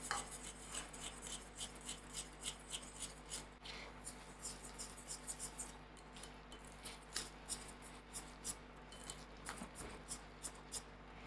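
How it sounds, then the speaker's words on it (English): Flour being whisked into wet ingredients for a quick one-cup cake batter, a steady run of soft, rhythmic scraping strokes against a bowl, fairly close and fairly quiet with no talk. "So I put my flour into my wet ingredient and give it a good whisk."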